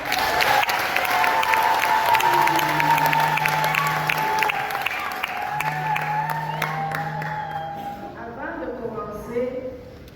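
A congregation at Sunday mass for Christ the King breaks into sustained applause, a dense steady clapping that carries on under singing or a voice and fades slightly toward the end.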